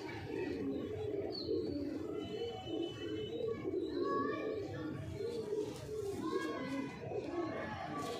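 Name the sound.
pigeons cooing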